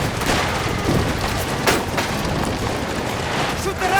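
Gunfire during a chaotic roadside shootout in Mafia: The Old Country, with rapid overlapping shots cutting through a dense, noisy mix of other game action. Loud and continuous throughout.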